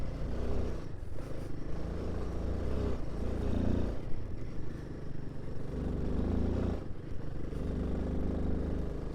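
A vehicle engine chugs steadily up hills in third or fourth gear, a continuous low rumble with mild surges and rattling, heard from inside.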